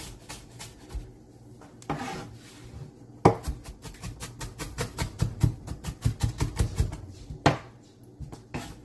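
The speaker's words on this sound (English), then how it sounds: "And just start chopping." Knife chopping ginger and garlic on a cutting board for Korean-style BBQ pork, a quick run of sharp, rhythmic close taps that grows denser and faster after a few scattered opening strokes.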